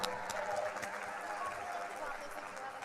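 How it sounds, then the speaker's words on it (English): Audience applause at a motivational seminar, a dense steady wash of many hands clapping with crowd noise and babble throughout, fairly loud and continuous. "let's give him a round of applause."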